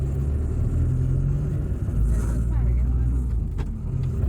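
A car drives along a road through agricultural country in Trinidad, a loud, steady engine rumble and tyre roar filling the whole stretch with no pauses.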